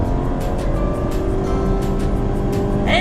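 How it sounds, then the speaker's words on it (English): A 2015 VW Jetta engine revving high and held steady in second gear, a constant droning roar with road and wind noise while driving, with a brief voice near the end. "I'm in second gear right now and it's holding it fairly high"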